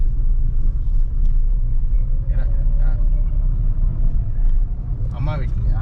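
A brand new car is driven home, heard from inside as a steady low engine and road rumble with occasional bumps, while voices talk quietly over it.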